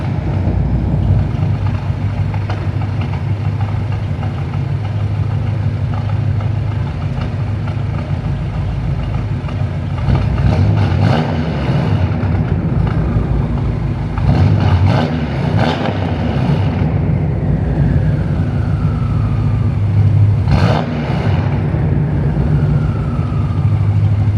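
A BMW F10 M5 engine runs with a deep, steady idle that lasts throughout, broken by a few short, sharp revs that rise and fall. The car sounds close, and no one speaks.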